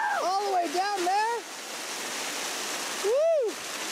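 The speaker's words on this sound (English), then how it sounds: "We're climbing a waterfall." A waterfall at Geary State Lake rushes in a steady, full broadband roar, overlaid near the start and again toward the end by a few sweeping, whistle-like calls.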